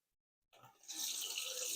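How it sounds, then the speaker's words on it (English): Tap water runs over wild garlic in a sink, starting after a short silence and then pouring steadily as a broad, fairly quiet splashing stream. No one speaks. "I'm going to start by rinsing off the garlic."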